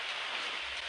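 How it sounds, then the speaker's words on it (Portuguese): Steady hiss of rain falling in the game ARK Mobile, a dense wash of drops on surfaces with no talk over it. "Aí agora chove. Eu fui lá e choveu."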